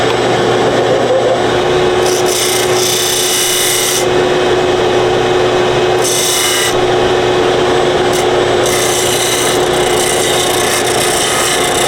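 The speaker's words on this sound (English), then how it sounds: "I'm just going to sand off a little bit of the edges so it won't be, so rough." Hand sanding the rough edges of a wooden candle holder with sandpaper, a close, loud scratchy rasping in steady back-and-forth strokes, with brief pauses between passes and no talk.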